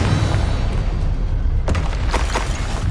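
A Confringo fire-blast spell in the Hogwarts Legacy video game thuds and bursts amid a loud, continuous rumble of battle, with two or three sharper explosive hits near the end.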